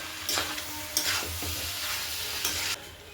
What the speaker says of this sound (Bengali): ভালো করে কষাবেন যেন কাঁচা গন্ধটা না থাকে